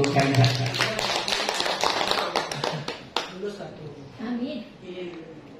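A school audience claps for a teacher in a burst of close, uneven hand claps that fades after a few seconds, with children's and adults' voices talking over and after it.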